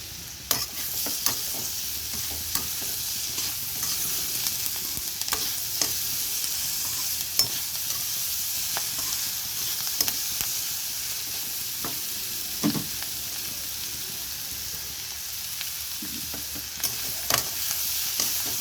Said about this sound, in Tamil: கேரட் நல்லா வதங்கிடுச்சு